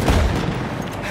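Grenade explosion in a video game: a brief, loud booming blast at the start that trails off into a rumbling decay.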